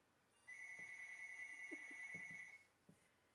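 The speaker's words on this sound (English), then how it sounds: "I'm going to wait till the phone stops ringing" A telephone rings once with a steady electronic trill lasting about two seconds, fairly close by in a quiet room, with faint knocks and shuffling underneath.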